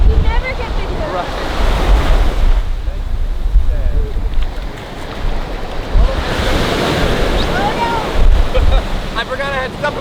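Ocean waves roll onto a beach with a loud, continuous roar of surf and strong wind buffeting the microphone. Faint voices and birdlike chirps surface now and then.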